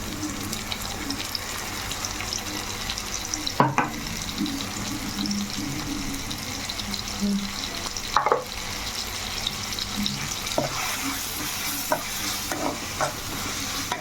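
Onions frying in a pan for gongura chicken curry give a steady close sizzle, broken by a few sharp spoon scrapes and stirring knocks, with no voices.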